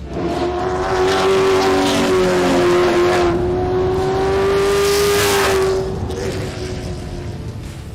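Touring race cars in the iRacing sim, at a WTCR round in the Netherlands, howl loudly with a sustained high engine note that rises and dips as the pack passes, fading slightly toward the end.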